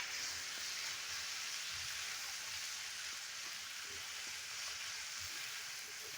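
Fried rice with turmeric being stirred in a hot pan, giving a steady close sizzle with faint scraping under it and no voices.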